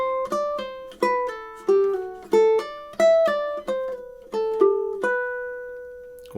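Ukulele playing measures 13 and 14 of the Nutcracker March, bright plucked chords and melody notes in a steady march rhythm, close and clear, ending on a sustained note.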